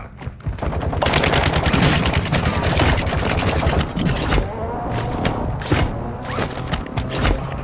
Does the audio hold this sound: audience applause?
no